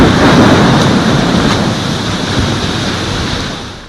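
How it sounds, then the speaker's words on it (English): Thunderstorm with strong wind, rain and hail: a loud, dense roar of wind and pounding precipitation that is heaviest at first and then slowly eases, with no voices. "The strong wind was accompanied by rain and hail."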